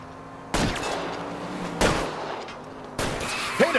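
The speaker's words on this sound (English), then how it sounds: "I'll try to shoot out his tires." Three sharp, loud gunshots ring out in L.A. Noire, fired at a fleeing car's tires, spaced roughly a second apart, each with a short echoing tail over faint engine and street noise.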